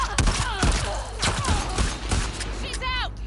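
Gunfire in the video game The Last of Us Part II crackles in a quick volley of sharp shots. Game characters shout over it, and the shots stay close and loud throughout.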